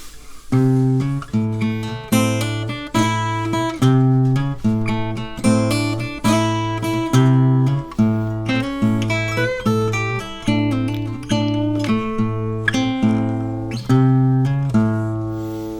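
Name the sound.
fingerstyle blues lick on acoustic guitar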